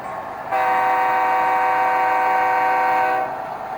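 An HO scale Athearn Genesis SD90MAC-H2 model locomotive in Union Pacific livery sounds a steady, sustained horn blast of about three seconds, near and clear, over a quiet electronic hum.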